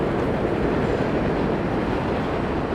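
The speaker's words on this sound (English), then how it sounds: "That's the number 7 train again." Steady rumbling roar of a New York City number 7 subway train passing near Queens Plaza station, loud and continuous with no voices.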